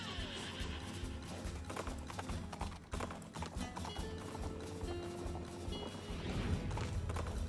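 Horse hooves clip-clopping with a brief whinny in a Princess Peach Showtime video game, set among busy game music and effects that run throughout at steady loudness.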